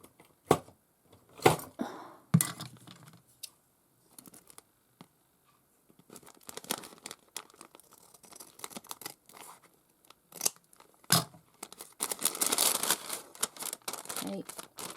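Scissors snipping the end off a sheet of paper while making a vintage-style floral journal, a handful of short crisp cuts and rustles spread out with quiet gaps between, close and fairly soft.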